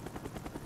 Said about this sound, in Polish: O, helikopterem lecimy!